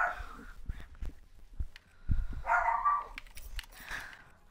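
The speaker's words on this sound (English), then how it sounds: "Dog, be quiet." A dog barks indoors in a few short, scattered yips and barks, fairly faint, mixed with small household noises while someone plays a video game.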